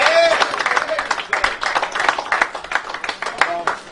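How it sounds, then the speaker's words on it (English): Clapping and cheering from an audience at a boxing press conference after a fighter is introduced, loud and close, with bursts of individual claps and a speaking voice mixed in over the crowd. "I want you to give a big round of applause to Will Howard Rosinsky."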